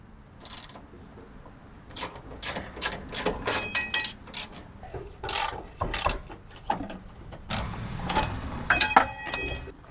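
Ratchet wrench clicking in repeated bursts while removing 9/16 aftermarket bolts on a Nissan Xterra during a bump stop swap, close and fairly loud with brief metallic clinks between strokes.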